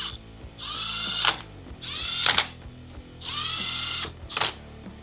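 A power tool on its lowest setting runs bolts into a Kawasaki KFX450R engine in three loud, close whirring bursts, each ending in a sharp ratcheting clatter, separated by brief pauses.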